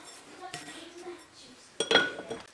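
A spoon clinks and scrapes against a bowl as fried ingredients are mixed into oats for instant oats idli batter, with a brighter cluster of clatter near the end.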